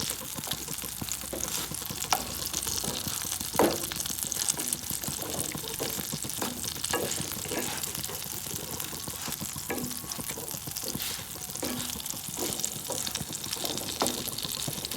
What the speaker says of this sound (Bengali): আমি পাতুরিগুলিকে ভেজে নেব